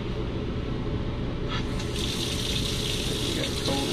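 Cold water running from the sink faucet in a 2020 Wonder RTB RV on a Ford Transit chassis, a steady close splashing gush that continues throughout with small handling noises.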